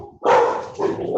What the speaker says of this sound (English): angry dogs